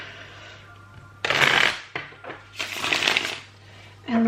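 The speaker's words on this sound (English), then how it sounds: "let's just do a couple more just to make sure that these are shuffled." Tarot cards are riffled in two loud, crisp bursts of rapid fluttering, each lasting under a second, separated by quieter handling and a brief softer shuffle, close to the listener.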